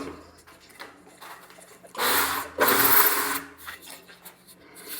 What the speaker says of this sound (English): I'm going to go ahead and use a belt sander that I built for working on the neck